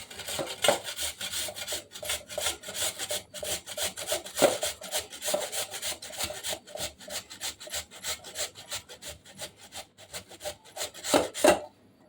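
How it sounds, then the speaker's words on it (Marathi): Raw peeled potatoes rubbed against a metal hand grater in a home kitchen, giving a steady, rapid rasping scrape in repeated strokes that runs without pause, close and fairly loud, with no talking. "ते आपण किसून घ्यायचे आहेत तर किसणी घेतलेली आहे मी आणि बटाटे आता किसून घ्यायचे आहेत आपल्याला"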